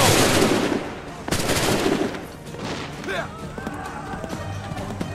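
Musket volleys crack and rattle in an Assassin's Creed 3 battle at Lexington, bursts of gunfire in the first two seconds followed by shouted commands and voices over a battlefield backdrop.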